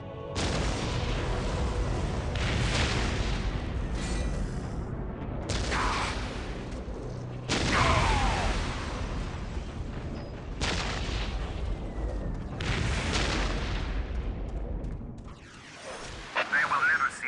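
Heavy booming artillery salvos in Warhammer 40k Dawn of War, a series of deep blasts every two seconds or so with rumbling decays, dense and loud over a continuous battle din.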